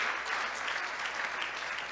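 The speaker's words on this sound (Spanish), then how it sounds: "Vamos a darle un fuerte aplauso" Congregation applauding at a church service broadcast from Acapulco, a dense, steady wash of many hands clapping together for the full stretch, fairly even in loudness with no voices standing out.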